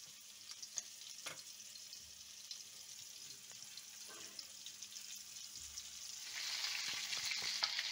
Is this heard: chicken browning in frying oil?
yes